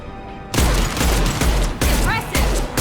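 Gunfire in the shooter game Mass Effect 2 opens after a brief voice, then loud, rapid broadband bursts with short gaps between volleys keep going to the end.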